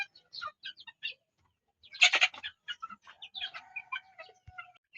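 Three Tornado Lemon Hatch chickens in their cage give short, close clucks and calls in loose clusters, with a louder burst near the middle and quiet gaps between, no talk.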